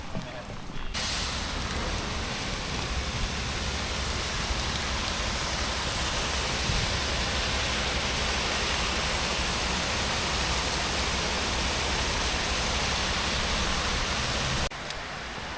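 Steady, dense splashing of water from the Pineapple Fountain in Charleston pours on continuously, loud and close, with no breaks.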